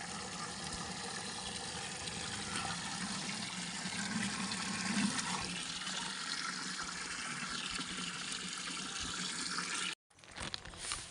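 Water pours steadily into the tub of an Onida washing machine, a continuous close rushing fill that cuts off abruptly near the end, followed by a brief splashy resumption.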